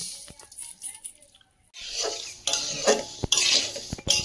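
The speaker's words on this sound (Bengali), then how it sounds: "কড়াই গরম হচ্ছে, মুগ ডালটা এখন শুকনো খোলায় ভেজে নেব" Mung dal is dry-roasted in a hot kadai: a spatula scrapes and clinks against the metal pan in short, uneven strokes, up close after a brief quiet pause, with a soft rustling of stirred lentils.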